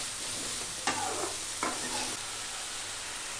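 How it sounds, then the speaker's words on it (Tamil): Vegetables for mor kuzhambu sizzle steadily in a hot pan, with two short bursts of scraping as they are stirred, fairly close and without talk. "காய் கொஞ்சம் வதங்கினாப்பிலேயே கொஞ்சம் ஃப்ரை பண்ணலாம்"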